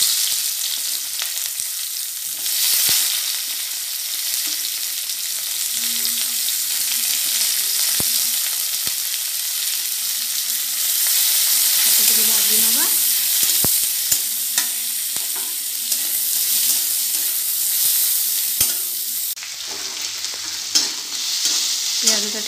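Onions frying in a hot pan with garlic, a steady broadband sizzle running throughout, broken by occasional sharp scrapes and clinks of a spatula stirring, no voices.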